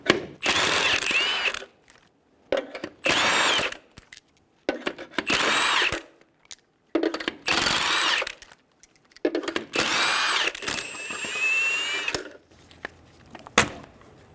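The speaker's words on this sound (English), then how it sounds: "Using a 21mm socket, remove the 6 lug nuts." Impact wrench or power ratchet spinning off the six lug nuts on a front wheel of a 2005-2015 Toyota Tacoma with a 21mm socket, several loud close whirring bursts separated by short pauses.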